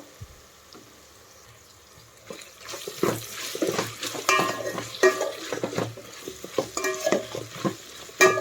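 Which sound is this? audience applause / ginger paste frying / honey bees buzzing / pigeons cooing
ginger paste frying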